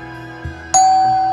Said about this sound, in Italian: Ma chi suona il campanello?